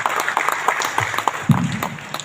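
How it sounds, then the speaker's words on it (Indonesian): An audience at a peaceful-election declaration event in Bekasi Regency gives a short burst of applause. The clapping is moderately close and sounds scattered rather than thunderous, with faint voices underneath. "Tepuk tangan buat beliau."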